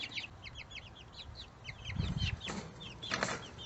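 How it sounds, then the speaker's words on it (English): Chickens exploring their new chicken run, with repeated soft clucks and short chirpy calls close by, some bursts overlapping as several birds vocalize at once. "I have my chickies here. They're already looking in there, wondering what's happening."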